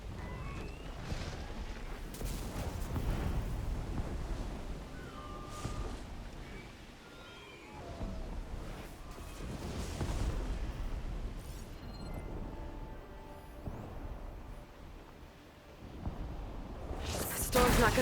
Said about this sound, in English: The air's crackling with those storm clouds looming.